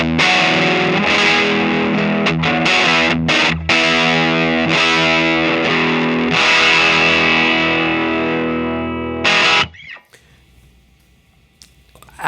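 Electric guitar riffs through a Voltic Electronic Devices boutique fuzz pedal, thick saturated chords and choppy stabs played loud and continuous for about nine seconds, then cutting to near silence with a faint buzzing tail.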